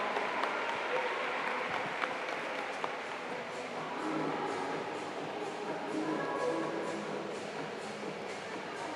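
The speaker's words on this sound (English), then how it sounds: "Round of applause for Riley Sayer, ladies and gentlemen." Spectators applaud a swimmer at the 2023 New Zealand Swimming Championships finals in an echoing indoor pool hall, with a sustained reverberant wash of clapping and a few sharper claps standing out.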